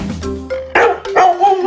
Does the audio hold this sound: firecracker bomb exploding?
no